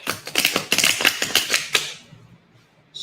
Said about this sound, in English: shuffle these cards real good